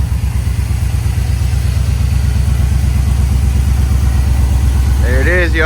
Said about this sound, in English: So let's fire her up and give her a couple revs and see what it sounds like.